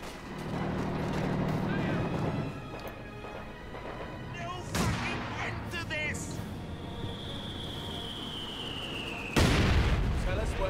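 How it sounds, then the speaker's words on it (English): A rifle grenade bursts on a mortar team in Company of Heroes 2, one of several booming explosions and sharp blasts amid battle noise, with someone talking over it. "Fires rifle grenade on the gunners and loader."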